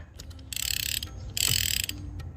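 An Olympic fly reel's anti-reverse ratchet clicks in two quick buzzing bursts, sharp and close, with a few isolated ticks before and between.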